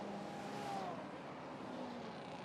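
A Ferrari race car at the Le Mans Classic passes on the circuit. A fairly distant engine drone sweeps past with a falling pitch and fades into a steady background roar of track ambience, with no voices.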